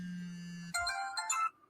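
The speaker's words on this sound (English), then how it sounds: "Someone's ringing me now." A phone rings with an electronic ringtone: a steady low tone first, then a brighter burst of chiming notes that cuts off quickly, close and clear with no talk.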